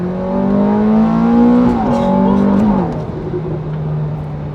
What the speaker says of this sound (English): the harder you are on the throttle, the quicker the gear changes become